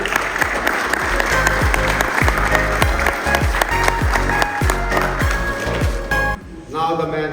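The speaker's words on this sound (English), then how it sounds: "I would like everyone to give him a big round of applause," Applause from the audience at a cricket association annual general meeting, a loud steady wash of clapping that carries on for several seconds before dropping off sharply near the end.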